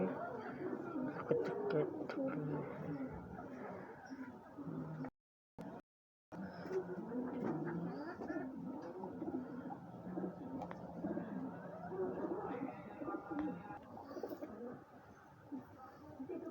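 Soft, repeated cooing of black-necked pigeons close by, with murmuring voices in the background and a brief dropout partway through.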